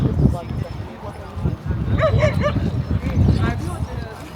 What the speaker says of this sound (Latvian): 40 miljoni suņu.